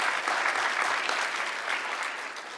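Studio audience on a quiz game show applauding a contestant, a steady wash of clapping from many hands held at even volume throughout, with no talk over it.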